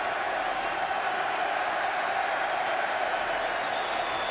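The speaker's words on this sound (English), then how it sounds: "I think he's milking the applause a bit over there." Distant, broad crowd noise fills a football stadium during the Manchester United v Arsenal FA Cup fifth round match in 2008, a steady roar of applause and cheering with no distinct individual claps.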